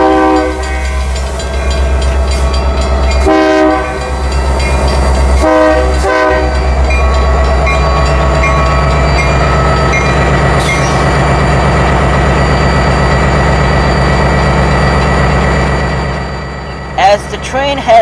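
LSRC 1776, a Lake State Railway diesel locomotive, rumbles loudly through West Branch on a Santa Train run, with a deep steady engine drone, repeated blasts of its horn, and wheels clattering along the track close by.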